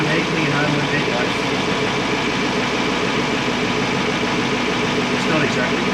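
Ford Ranger Raptor idling with an XForce aftermarket exhaust, a steady dense rumbling drone close by with no revs, constant level throughout.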